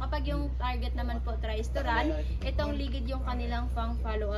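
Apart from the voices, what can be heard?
None of the usual background noises is heard.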